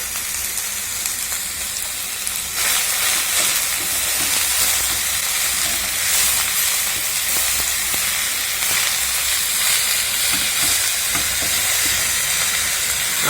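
Red amaranth greens fry in a hot pan with salt, giving a continuous loud sizzle and hiss with scraping stirring strokes, steady throughout without voices.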